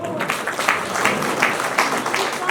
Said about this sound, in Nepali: फेरि एकताल तरर ताली बजाउँ।